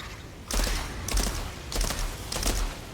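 Gunfire in an Outriders video game boss fight comes as four short, rapid bursts with brief pauses between them, at moderate loudness over a low background.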